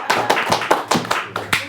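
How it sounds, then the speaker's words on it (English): Hands clapping at close range, about ten crisp, sharp claps in a quick, fairly even rhythm, with a faint low hum underneath. "We can clap now."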